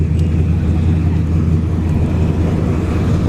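Two G-body drag cars at a dragstrip test-and-tune, one with a Vortex supercharger and one turbocharged, idling together as a loud, steady low-end engine rumble that fills the whole stretch.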